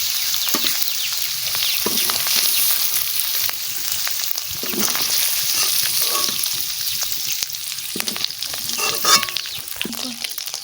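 Paneer cubes frying in oil in a pan for palak paneer, a steady close sizzle with intermittent scraping stir strokes throughout, no talking.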